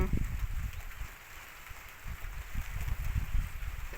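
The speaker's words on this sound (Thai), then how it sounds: "ตกมาแล้ว เสียงมาแล้ว พร้อมกับเม็ดฝน" Rain falling during a storm over rice fields in rural Thailand, a steady wash of droplets with gusty low rumbling wind noise throughout, moderately loud.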